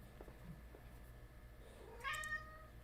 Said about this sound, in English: Yes, cat.